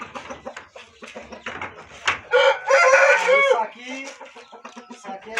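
A rooster crows loudly nearby, a long strained call, while people chat casually before and after.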